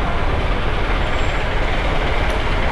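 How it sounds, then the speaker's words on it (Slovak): Old extended American war-era jeepneys idle and rumble at a small station in Angeles City, Philippines, giving a loud, steady, broadband engine drone with no break. "Staré americké predĺžené jeepy z vojnových čias zrejme"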